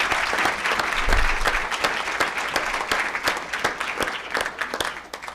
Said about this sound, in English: Can we have another round of applause for Jack and Zoe?